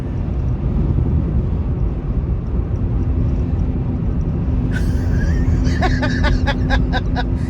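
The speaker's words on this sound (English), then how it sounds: "And here's a big truck coming." A big truck passes on the road, heard amid a loud, steady rumble of traffic and engine noise with a faint droning hum, followed near the end by a burst of rattling, higher-pitched clatter.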